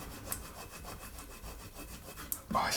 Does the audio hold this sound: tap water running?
no